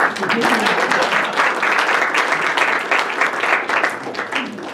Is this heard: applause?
yes